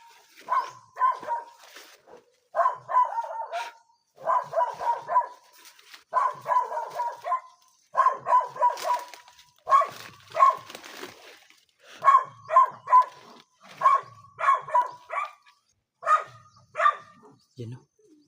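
Dogs at an apparently empty house bark over and over in rapid clusters of several barks, with short pauses between bursts, fairly close and loud throughout.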